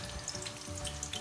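Butter sizzles and crackles steadily in a hot pan while being browned for Christmas snacks, a low, continuous frying hiss with faint popping.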